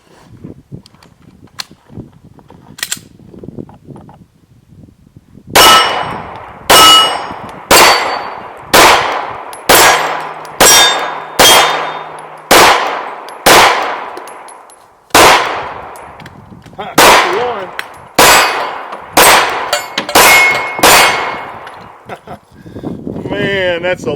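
Sig Sauer P226 9mm pistol fired on a range, a slow steady string of about fifteen loud sharp shots with ringing tails, a few quicker pairs near the end, with faint talk and clatter before the shooting starts.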